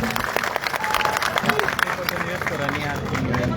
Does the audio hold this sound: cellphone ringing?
no